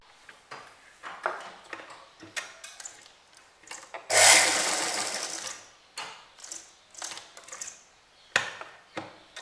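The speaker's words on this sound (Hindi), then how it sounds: "गोलाई वाली जगह पर आप थोड़ी धीरे धीरे मशीन चलाइए" A sewing machine stitches a festive kurti with short start-stop bursts of rapid mechanical clatter. One longer, louder run sits in the middle, and soft handling and fabric noises fill the gaps.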